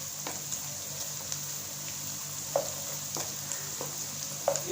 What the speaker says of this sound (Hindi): अदरक का पेस्ट शामिल करने के बाद हम इसको 1 मिनट तक अदरक के पेस्ट को भी हम फ्राई कर लेते हैं।